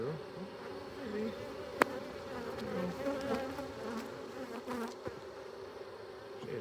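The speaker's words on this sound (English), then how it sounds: "There's another bee that's trying to clean her off." Honey bees buzz steadily and close by during a swarm hive inspection, a dense, continuous hum with one sharp tap partway through and no talking.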